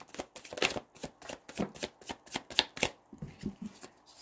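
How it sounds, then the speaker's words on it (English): Tarot cards being shuffled by hand, a quick run of crisp riffling bursts and soft slaps close up, with no talking. "let's see what the cards say"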